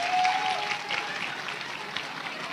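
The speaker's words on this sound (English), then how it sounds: "Clap for them, clap for them, clap for them" A church congregation claps together in sustained, dense applause, loud and steady throughout with a faint tone at the start.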